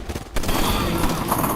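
Dense gunfire rattles in Call of Duty: World at War on a beach battlefield, a loud, continuous fusillade of rifle and machine-gun shots with no pause.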